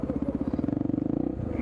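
Honda XR Tornado motorcycle riding through Lima traffic, a steady single-cylinder engine thumping in a quick, even pulsing rhythm, close and fairly loud, with the pulses speeding up slightly.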